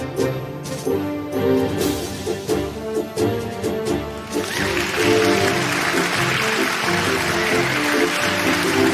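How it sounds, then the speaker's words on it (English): Music with sharp percussive hits plays at a debate event, then an audience bursts into sustained, dense applause that carries on loudly through the second half. "Well, the applause"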